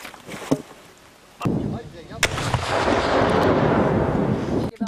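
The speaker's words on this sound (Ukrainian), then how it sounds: "Ще одна вправа, яку сьогодні практикують – кидання гранати." A hand grenade explodes during reservist training on a range: a sharp blast sets off a loud, rumbling roar that lingers for several seconds, preceded by a few fainter distant bangs.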